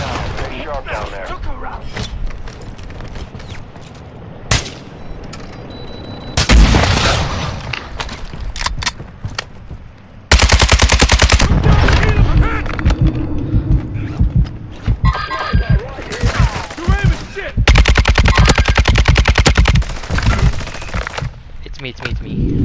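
Bursts of automatic gunfire in Warzone DMZ, loud and close, coming in dense rapid volleys with short gaps, mixed with game radio chatter and a player talking over it.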